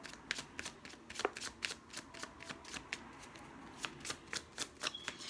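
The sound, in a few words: shuffling tarot cards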